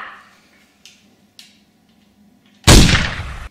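A few faint clicks, then one loud, sharp shot from a Transformers Dinobots toy blaster close by, with a brief noisy tail.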